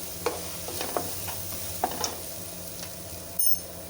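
Boti gojju, goat tripe curry with spice powder, roasting and being stirred in a pan over a low flame, with repeated scraping strokes over a steady soft sizzle.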